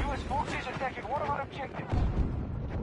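A grenade blast in the shooter Battlefield 2042, a deep booming thump near the end of the clip, heard under talking and other game noise.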